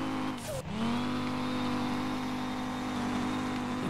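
Audi Quattro car engine drifting in the SLRR game, a loud sustained drone holding steady after a quick dip in revs near the start, with no talking.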